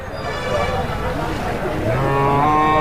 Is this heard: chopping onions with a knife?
no